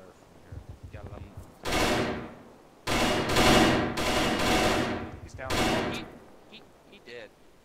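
Gunfire in a military video game, several loud sustained bursts of automatic fire separated by short pauses, close by, with faint radio voices in the quieter moments.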